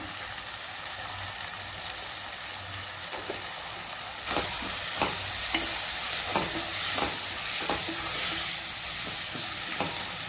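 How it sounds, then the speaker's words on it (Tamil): Onions and tomatoes sizzle steadily in a hot pan, and from midway a spoon stirs with repeated scraping strokes over the frying. "தக்காளி வதங்கட்டும் வெங்காயம் தக்காளி இந்த அளவுக்கு வதங்கிடுச்சு"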